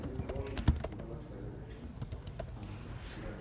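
Quiet typing on a computer keyboard, a scattered run of light key taps with one sharper tap early on, under faint room noise.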